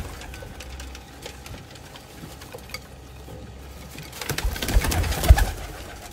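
Pigeons cooing in a loft where birds are paired for cross-breeding, a low steady murmur of coos with rustling, growing louder and busier toward the end, with no talk.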